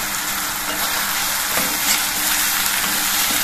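Finely chopped ridge gourd with asafoetida and salt fries in a pan, giving a loud, steady, close-up sizzle with no pauses, alone and without talk.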